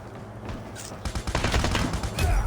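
Rapid automatic gunfire from a Call of Duty Mobile match, a high-capacity weapon firing a dense, sustained burst that starts about a second in and runs loud to the end, with a faint voice beneath.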